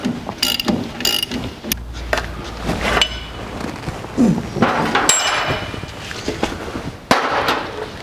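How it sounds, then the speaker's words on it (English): Hammer taps and metallic clanks while a bolt is driven out of the front suspension of a 1982 Jeep CJ7 during disassembly, heard as several sharp, close strikes among scraping and rattling tool noises. "A couple little love taps to run the bolt out. A little pry bar action to take the top mount out."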